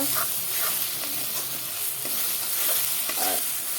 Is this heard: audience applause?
no